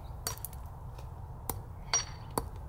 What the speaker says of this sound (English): Now we're going to smash the Swedish fish when it's been after it's been in the dry ice.